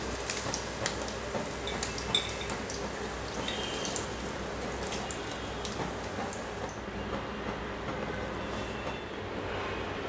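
Halloumi cheese sizzles and spits steadily in a hot pan. The crackle is continuous and moderately quiet, with scattered sharper pops and no voices.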